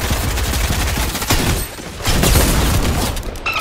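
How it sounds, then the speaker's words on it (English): Rapid bursts of gunfire in a Fortnite match, loud and continuous, with a brief lull in the middle before the shooting resumes. "they're still shooting for some reason"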